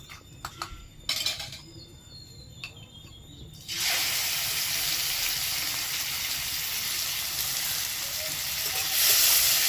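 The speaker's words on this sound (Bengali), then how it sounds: "এবার এটাকে ভেজে নেবো" Shrimp, rubbed with a little turmeric, hit hot oil in a pan after a few light clicks and taps, bursting into a loud, steady sizzle that keeps going to the end.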